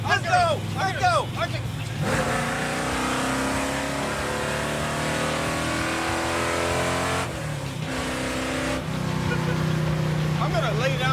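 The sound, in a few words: 1965 Ford Econoline engine revving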